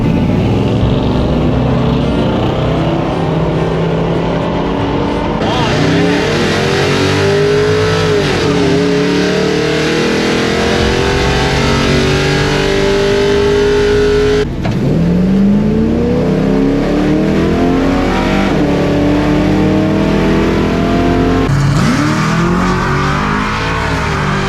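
Cars at a Tulsa Speedway racing event, one of them a station wagon, rev and accelerate loudly and close by, with engine pitch rising through repeated gear shifts over a continuous roar.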